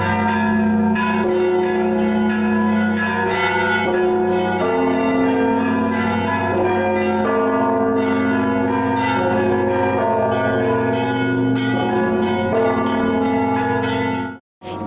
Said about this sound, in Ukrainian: з дзвіниці Михайлівського храму долинав тривожний дзвін